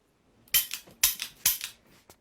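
A fake toy gun fires three sharp snapping pops in quick succession, followed by a fainter fourth click, close and crisp against a quiet background.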